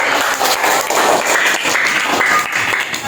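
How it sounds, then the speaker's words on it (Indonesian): A classroom of high school students claps together, a dense burst of applause that holds steady for a few seconds, loud and close. "Oke, tepuk tangan dulu"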